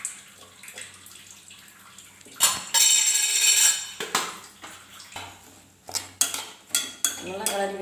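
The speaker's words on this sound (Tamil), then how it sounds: "நல்லா கிளறி விட்டுக்கோங்க." Bitter gourd fry is stirred in a pan, giving irregular close scrapes and clatters. A loud burst of sizzling rises midway, followed by sharper spoon-on-pan knocks.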